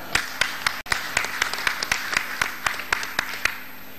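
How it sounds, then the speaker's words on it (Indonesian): An audience at a PDIP declaration event in Jakarta applauds steadily with sharp, overlapping claps at a fairly even rhythm, moderately loud, with a brief dropout partway through. "Kita berikan tepuk tangan yang meriah."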